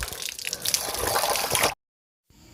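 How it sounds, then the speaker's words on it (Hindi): Natural mountain spring water pours out in a village, a steady splashing rush that stops abruptly, followed by faint ambience. "यहाँ पर ना ये पानी ऊपर इन्हीं पहाड़ों से आता है और यहाँ आके निकलता है।"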